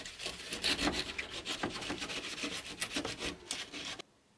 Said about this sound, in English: I was going to take one of these Scotch-Brite pads and I was going to just rub it lightly.